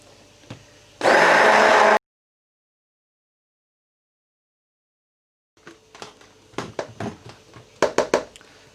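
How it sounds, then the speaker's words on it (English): A hand blender whirs loudly for about a second blending a yogurt and gram flour batter and cuts off, followed by silence and then scattered clinks and knocks of utensils. "I'm going to use my hand blender and I'm going to blend this until there's no clumps left"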